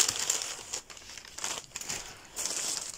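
Paper packing material crinkling and rustling as a package of Beanie Boo plush toys is unpacked, a close, steady run of crackly crumples with a few brief pauses and no talking.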